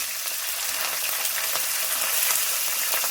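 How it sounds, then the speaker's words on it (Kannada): Chana dal and urad dal frying with dry and green chillies in hot oil, a steady close sizzle with soft crackles and faint stirring throughout, no talk. "ಕಡಲೆಬೇಳೆ ಮತ್ತು ಉದ್ದಿನಬೇಳೆನ ಒಂದು ಸ್ವಲ್ಪ ಫ್ರೈ ಮಾಡ್ಕೊಳ್ತೀನಿ"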